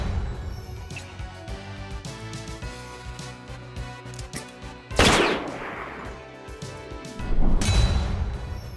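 Marco's special weapon firing in a turn-based video game: rapid machine-gun bursts with two loud, sharp blasts standing out midway and near the end, over steady game background sound, with no talk.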